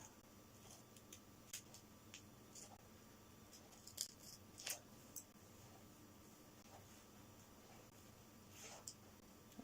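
Scissors cutting through a thin piece of metal, heard as faint, sparse snips and crisp clicks scattered over a quiet background with no talking.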